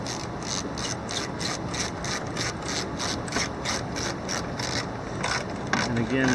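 Ratchet wrench clicking in a steady repeated rhythm while tie-down bolts are snugged into the bed of a 2018 Ford F250, close and continuous with some metallic rubbing.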